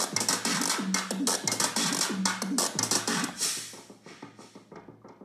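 A Korg Volca Drum sequence plays all its parts together, with punchy repeating drum hits, bright noisy percussion and pitched tones in a busy loop that thins out toward the end.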